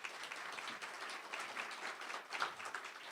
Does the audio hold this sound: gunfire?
no